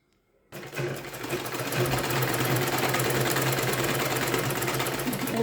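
Sewing machine stitching through a blouse lining, starting abruptly after a moment of near silence and then running in a steady, fast, close-up rattle of needle strokes.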